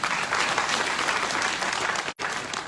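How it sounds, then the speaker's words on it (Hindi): An audience applauds steadily at a motivational success-plan talk, dense continuous clapping with a brief dropout near the end before it resumes. "तालियां होनी चाहिए"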